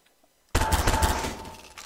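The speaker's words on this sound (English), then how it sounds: "I'm going to stick with the E11, because I do like using this weapon" An E11 blaster fires a rapid burst in Garry's Mod, cutting in abruptly after a moment of near silence. The loud, chattering volley runs for over a second before it tapers off.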